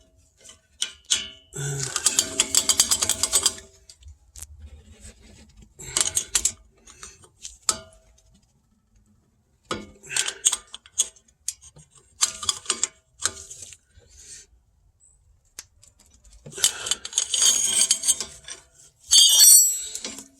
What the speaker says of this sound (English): I currently have a torque wrench for this, and let me tighten it